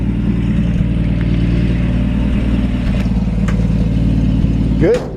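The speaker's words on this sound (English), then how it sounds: "Kind of feel like the idle maybe just a hair high" A 1954 Chevrolet 235 six-cylinder engine idles steadily and slightly high while still warming up on the choke, close and even, ending with a brief squeak or rattle.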